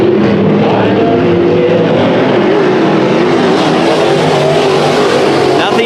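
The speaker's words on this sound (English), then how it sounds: "Dutton now pulling away in his 97 car" Race cars roar loudly and continuously through a heat race at Bakersfield Speedway, engines droning close and steady for the whole stretch, with a commentator talking over them.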